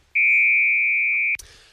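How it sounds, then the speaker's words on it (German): A single loud, steady electronic beep tone holds for over a second as a radio traffic-alert signal before a news bulletin, then cuts off abruptly into a brief noisy burst. "halte die Ohren zu, es piepst jetzt"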